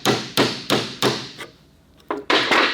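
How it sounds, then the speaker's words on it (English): Close, loud, rattling bursts from an impact gun hammer at a stuck nut on a Ferrari 430 Scuderia wheel hub, four quick blows in a steady rhythm, a pause, then three more in quick succession. "use the hammer of the impact gun to sort of like bounce the nut off"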